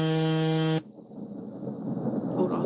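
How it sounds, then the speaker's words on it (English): A phone alarm rings loud and steady with a harsh buzzing tone, then cuts off sharply, leaving low room noise and some movement behind it. "my alarm saying"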